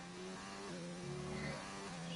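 A Formula 1 car in F1 2019 drives through a chicane at the Canada circuit, its engine a steady, fairly faint hum that shifts pitch slightly as it goes.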